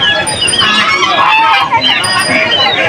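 A dense, noisy chorus of domestic ducks quacking and honking continuously, close and loud, with voices of people mixed into the bustle of a poultry market in Nalitabari.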